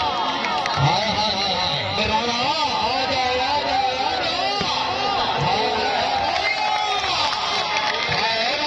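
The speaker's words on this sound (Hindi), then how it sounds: "जोरदार तालियां" Loud crowd at a stadium match in Khan Stadium, Shah Wala, cheering, whooping and shouting continuously, with voices and chants layered throughout rather than clear clapping.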